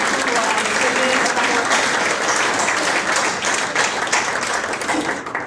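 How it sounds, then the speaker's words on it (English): Sustained, loud applause from an audience at an investigative reporting awards ceremony, honoring the finalists, with dense clapping filling the hall and no speech over it. "how about a round of applause for all of the finalists"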